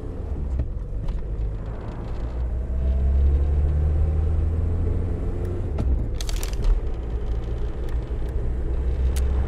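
A car engine rumbles steadily as it drives in the video game Road 96, a continuous low drone with small clicks and knocks scattered over it.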